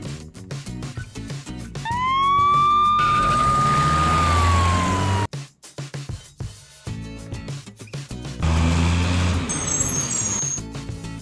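An ambulance siren rises and holds a wailing tone for a few seconds, loud above busy traffic and music, before cutting off amid further street noise.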